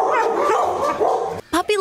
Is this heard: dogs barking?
yes